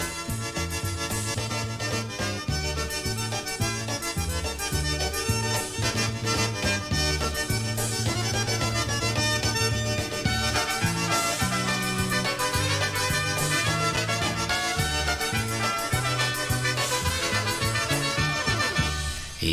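Upbeat polka theme music for a late-night polka program plays loud and steady from start to finish, with a bouncing bass and full band texture and no talking over it.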